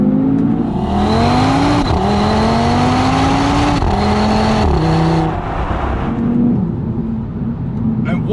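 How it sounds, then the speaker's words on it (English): A 2019 Audi TT RS with its 2.5-litre five-cylinder engine, a loud, close, warbling snarl that rises through the revs in repeated pulls, dipping briefly between gear changes before climbing again. "Now, you can hear that distinct 5-cylinder noise."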